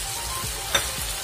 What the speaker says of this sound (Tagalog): Ilalagay ko na itong broccoli.